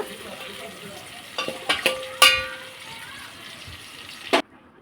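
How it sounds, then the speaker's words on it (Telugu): Small tomato pieces fry in hot oil as the base for a korameenu fish curry: a soft, steady sizzle runs under a few close utensil clinks and scrapes, with one sharp knock just before it cuts off. "ఒక టమాటాను తీసుకొని చిన్న చిన్న ముక్కలుగా కట్ చేసి ఇందులోనే వేసేయాలండి ఇది కూడా ఆయిల్లో ఫ్రై అవ్వనివ్వాలి"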